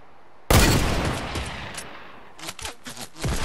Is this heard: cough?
no